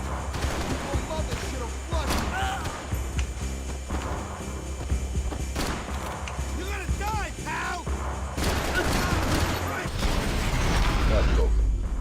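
Dense gunfire and explosive booms from the video game Max Payne 3, a continuous barrage of shots and impacts with game dialogue and background voices over it, growing heavier toward the end.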